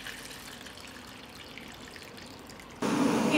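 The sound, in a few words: hot water poured into a cooking pot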